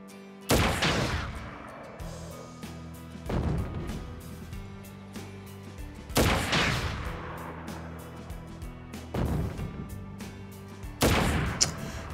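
Loud gunfire bursts from the Crisis Core: Final Fantasy VII Reunion video game, arriving as about five separate heavy blasts spaced a few seconds apart, each with a booming tail under continuous game music.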